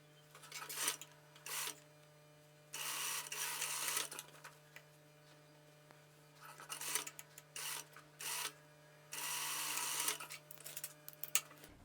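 A sewing machine stitches a dress side seam with a one-centimetre margin, running in several short bursts of rapid whirring stitches between pauses, close up over a steady low hum.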